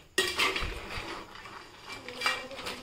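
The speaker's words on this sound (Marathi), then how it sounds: "इथे आपण आता हे वाटण सुद्धा यामध्ये मिक्स करूयात।" Ground masala paste stirred into a spicy crab curry in a pot, soft wet scraping and clinking of a spoon against the vessel, fairly quiet and close, no speech.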